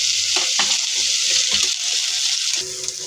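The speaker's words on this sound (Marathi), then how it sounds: "आपण त्यात ढोबळी मिरची टाकून घेऊ आणि आता आपल्याला हे सॉफ्ट होईपर्यंत परतून" Capsicum and onion sautéing in a hot pan, a loud close hiss of frying with a few scraping stir strokes, no voices.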